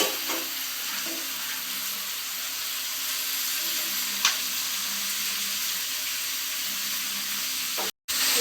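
Vegetable pieces frying in a hot pan while being stirred, a steady bright sizzle with a light scrape or two and no talking.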